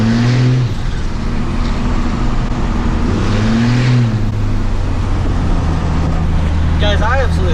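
A second-generation Cummins diesel pickup truck engine revs and drones loudly and steadily while driving on a road, with someone talking over it.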